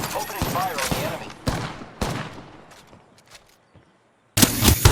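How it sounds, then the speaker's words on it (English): Gunfire in the shooter game Apex Legends: loud, sharp shots crack in irregular bursts, with gaps and echoing tails, then a heavy burst at the end, with some game voice mixed in. "Opening fire on the enemy."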